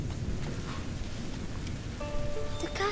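Steady rain pours in the medieval stealth video game A Plague Tale: Innocence, a dense continuous hiss that fills the scene alone, with faint tonal game sounds rising near the end.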